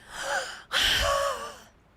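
A person lets out two sharp, breathy gasps close to the microphone, the second longer and fuller, trailing off into quiet.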